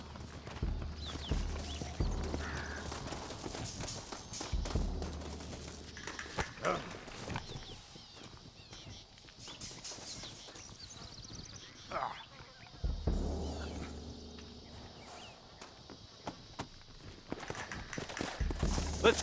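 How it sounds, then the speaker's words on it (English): Horse hooves clip-clop in bursts in the Red Dead Redemption video game, mixed with game effects and voices talking over them. "Looks like Carlos left us some horses."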